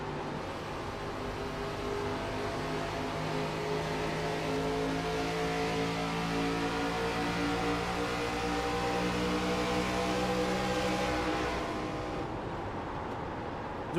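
An ARCA Series race car engine roars steadily from onboard at Charlotte, a sustained droning whine with shifting tones that fades slightly near the end.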